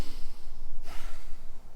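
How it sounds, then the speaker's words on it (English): A mountain biker's nasal breathing during riding: steady, close airy rushing of breath through the nose, with a sharper sniff-like inhale around the middle, no talking. "it's nasal breathing"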